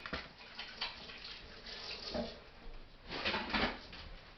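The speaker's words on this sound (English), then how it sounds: "you always want to wash your hands when you're about to touch raw meat" Running tap water pours into a kitchen sink while hands are washed before handling raw hamburger meat, a steady broadband rush with a few louder splashing surges.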